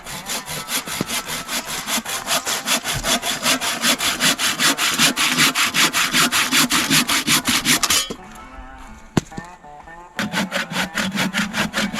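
A hand saw cuts through wood in fast, steady back-and-forth strokes at a forest hut, loud and close, pausing briefly before resuming.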